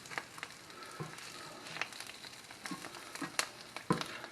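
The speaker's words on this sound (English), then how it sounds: "I'm scraping up the rest of them little bits and pieces off the bottom of that pan" Utensil scraping food bits off the bottom of a hot frying pan, irregular scratches and clicks over a soft sizzle, close and moderately quiet.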